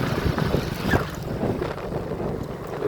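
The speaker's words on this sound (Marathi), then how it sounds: "मित्रांनो आपली मोटर चालू झाली आहे" A repaired water pump motor runs outdoors while water gushes out, producing a continuous rough, wind-like rushing noise, moderately loud and without talk.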